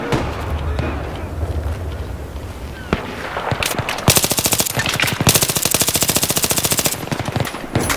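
Automatic rifle fire in Battlefield 3 on the Noshahr Canals map, starting with scattered shots and building into sustained rapid bursts that run close and loud over the second half, with no talk over it.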